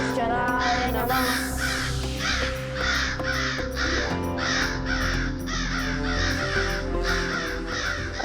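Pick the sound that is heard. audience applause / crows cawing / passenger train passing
crows cawing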